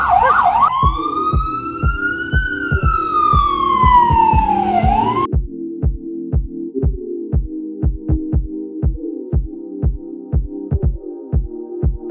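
A loud ambulance siren in New York wails, rising and falling, then switches to a rapid pulsing throb with sharp regular beats, close and continuous.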